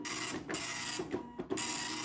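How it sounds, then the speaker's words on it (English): A C.Itoh 8510 dot matrix printer, sold as the Apple dot matrix printer, prints with a loud continuous buzzing rasp. The print head passes in bursts broken by brief pauses and carriage clunks. It is heard close up and alone. "This is a C.Itoh 8510, here branded as the Apple dot matrix printer."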